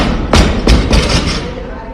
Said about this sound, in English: Can you guys stop banging that barbell?